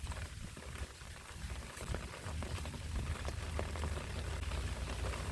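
Rain falling over a garden of rain lily flowers, a steady broadband patter with a low rumble underneath, continuous and moderately loud throughout with no voices.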